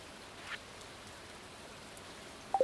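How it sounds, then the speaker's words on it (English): Quiet, continuous rainfall in the Stardew Valley farming game, a low, even hiss of drops with a couple of small blips near the end and no talking. "Okay, and it's raining, so we don't have to water."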